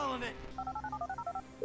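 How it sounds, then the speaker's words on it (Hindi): A quick run of dialing tones from a phone in GTA V: about a dozen short, evenly spaced beeps follow a brief ring-like tone at the start, with quiet game ambience around them. "फोन लगाया मैंने किसको फोन लगाया?"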